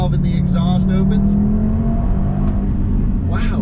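A 360-horsepower Audi in sport mode revs hard with its exhaust valve open, a loud, close engine roar that rises in pitch, with someone talking over it.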